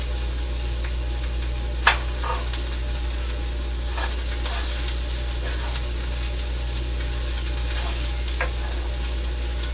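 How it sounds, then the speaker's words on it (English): Green beans sizzle in a pan with ham and peppers, a steady moderate hiss over a low hum, broken by a sharp clack near the start and a few lighter stirring knocks. "Our ham and peppers are starting to cook up nicely. I'm going to go ahead and toss in the rest of the vegetables now."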